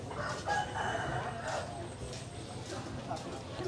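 Rooster crowing at a crowded eco-tourism food park in a melaleuca forest, with several chickens kept nearby; calls rise over steady crowd chatter and nearby talking.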